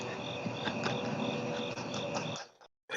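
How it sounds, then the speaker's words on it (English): Crickets chirp steadily in the background behind a livestream call, a fairly loud, continuous pulsing trill that runs for most of the moment, then cuts off abruptly near the end. "Was that crickets I heard there?"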